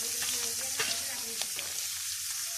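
About a cup of onions sizzles and fries in hot cooking oil for a fish curry, a steady close crackle with intermittent stirring clicks and scrapes.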